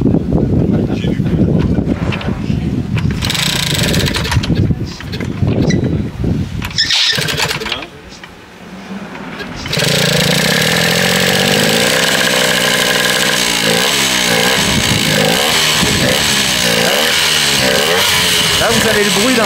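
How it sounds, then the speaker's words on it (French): A vintage 1987 Coyote G3 race car chassis has its engine revved loud and close. The engine dips to near quiet and then fires into a sustained, rough, throbbing roar, with voices talking over it at the start. "Là vous avez le bruit d'un beau G3 d'époque."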